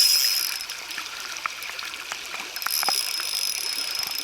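Deep, fast-moving stream water rushes steadily close by, a continuous hiss with small splashes and trickles, swelling slightly louder toward the end, with no voices.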